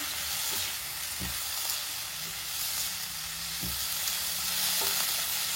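Tofu tossed into a hot pan for a stir-fry with garlic chives, giving a steady close sizzle and hiss broken by a few scraping spatula strokes, with no talk.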